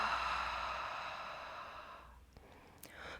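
A slow, airy exhale through the mouth during yoga breathing: a soft, close breath that fades gradually over about two seconds, followed by near quiet.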